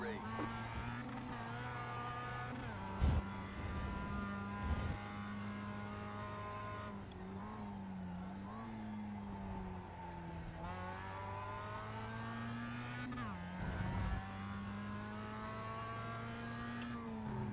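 A Mazda MX-5 production race car engine in a racing video game drones steadily and shifts pitch as it revs and changes gear, with an occasional thump, continuous and even in level.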